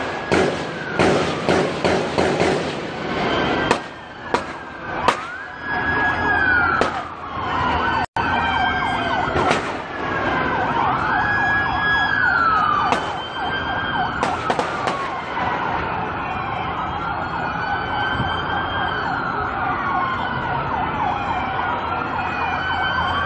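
Police and ambulance sirens wail with rising and falling tones during a shooting in Dallas, several overlapping sirens sounding loud and continuous alongside road traffic, punctuated by sharp bangs early on.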